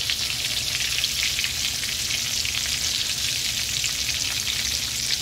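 A fish tail deep frying and crisping in hot oil, with a dense, steady crackling sizzle that stays even and close throughout, no voices.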